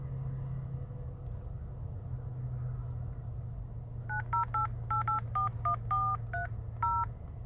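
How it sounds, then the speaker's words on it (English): A phone keypad dials a number as a quick run of about ten touch-tone beeps, close and clear over a steady low vehicle rumble. "Sean, call my work phone because I'm recording on this phone."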